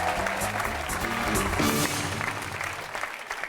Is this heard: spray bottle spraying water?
no